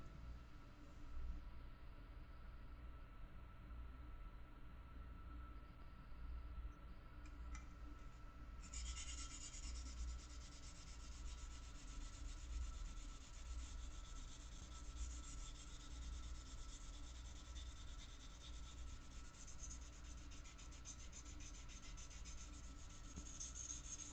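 Close, quiet rubbing of sandpaper on a clear-coated RC airplane part, a continuous soft scratchy friction that grows slightly brighter partway through and carries on steadily without talk.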